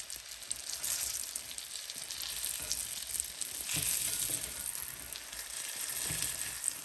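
Breaded pork chops frying in olive oil and butter, a continuous bright sizzle with fine crackling spatter, fairly quiet and steady throughout, no speech.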